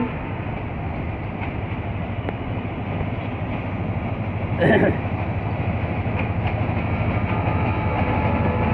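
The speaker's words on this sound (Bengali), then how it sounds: "Kalni express train Dhaka Kamalapur railway station থেকে বের হয়ে যাচ্ছে" The Kalni Express passenger train pulls out of Dhaka's Kamalapur railway station, a steady rolling rumble seen from the Khilgaon flyover, with a brief louder clank midway and faint voices in the background.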